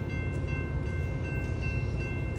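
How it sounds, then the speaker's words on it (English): A train arriving at a station brings a steady low rumble and rolling rail noise, with a faint sustained tonal whine on top. The sound is continuous and moderately loud throughout, with no talk. "Train is coming any second now."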